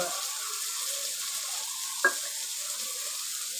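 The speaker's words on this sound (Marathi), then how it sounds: "ह्याच्याला ही सगळी फ्राय करून घेते" Halwa fish (pomfret) frying in a pan, crisp outside and soft inside: a steady, close hiss of oil sizzling runs throughout, with one brief sharp pop or spatter about halfway.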